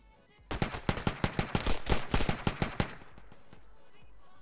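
A loud automatic burst of gunfire in ArmA 3, around fifteen rapid shots over two and a half seconds, then quiet background.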